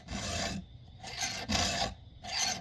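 A round file strokes a Husqvarna 372xp chainsaw chain, giving three smooth, close rasping passes with short quiet gaps between them.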